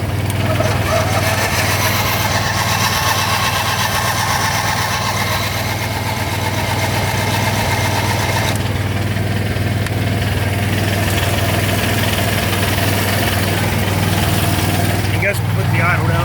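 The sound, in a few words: engine running on choke at full throttle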